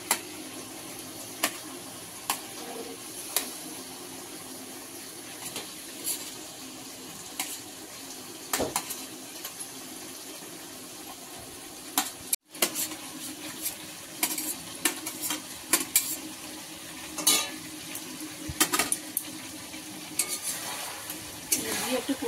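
Tilapia curry with fried potatoes sizzles in a pan, with repeated sharp clinks and scrapes from a spatula stirring it and a low steady frying hiss underneath.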